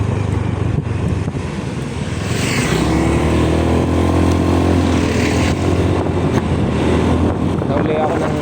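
Honda motorbike cruising on a road near Lucena City, a steady engine drone buried in heavy wind buffeting against the microphone, with a passing vehicle swelling by midway.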